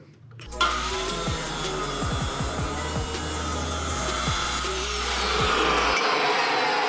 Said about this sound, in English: I'm gonna just hold this while I cut it.